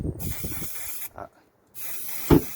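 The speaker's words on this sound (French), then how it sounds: "briquet qui marche mal." A faulty lighter hissing: a steady close gas hiss that cuts out briefly, then resumes with a short low burst near the end.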